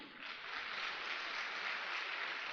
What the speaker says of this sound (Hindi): बजा लो ताली।